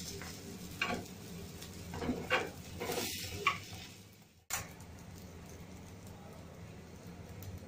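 Pieces of litti, stuffed dough balls, are turned over in a pan over a low gas flame, giving a few soft taps and scrapes against a faint sizzle that settles into a steady quiet hiss.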